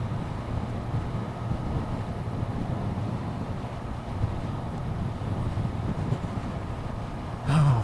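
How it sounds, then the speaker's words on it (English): Steady wind buffets a microphone near a motorway, a continuous low rumbling roar with a brief louder gust at the end, no voices. "It's windy as fuck down here"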